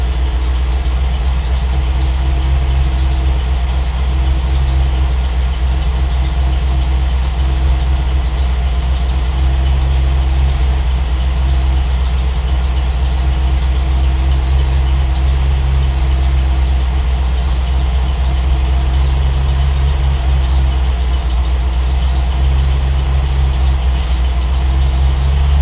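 A Triumph TR8 engine idles steadily on a cold start under Megasquirt tuning, a loud, continuous low rumble with a slight uneven lope and no voices.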